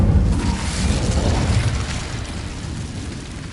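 Incendio fire spell cast in Hogwarts Legacy, a deep rumbling whoosh of flame that bursts loudly at once, then rolls on as a sustained roaring crackle that slowly fades.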